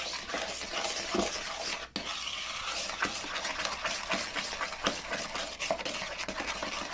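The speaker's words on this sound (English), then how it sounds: "Mix that in." Beaten eggs and sugar being mixed in a bowl, a steady close scraping and stirring with small clinks of the utensil against the bowl, continuous throughout with no talking.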